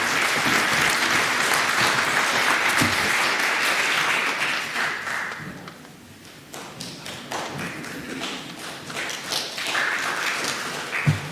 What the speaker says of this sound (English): I think it deserves the standing ovation. Please, let's stand and more clap with that.